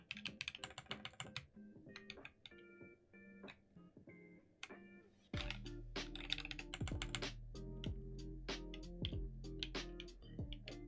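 Keycaps being pressed onto a Fox Lab Leaf 65 keyboard: sharp plastic clicks and taps, sparse at first, then denser and firmer pressing over a low background hum, close up with no talk.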